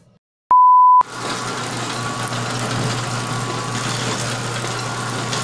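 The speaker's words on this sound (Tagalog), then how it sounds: "papakinisin lang natin dito sa dough roller" A dough roller machine runs as it flattens bread dough in a Filipino bakery. A short electronic beep is followed by a steady, loud, close motor hum and drone.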